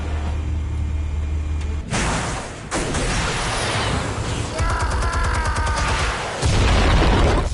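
A loud, booming explosion from the Batman Telltale video game, with heavy rumbling blasts followed by a dense crackling burst and a second roaring surge, continuous and close with no talk over it.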